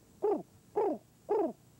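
A didgeridoo imitates the call of a brolga, an Australian wetland crane, in three evenly spaced, hooting, rising-then-falling calls, each about a quarter second long, played close and clear with short gaps between.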